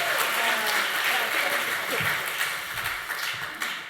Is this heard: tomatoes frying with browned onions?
no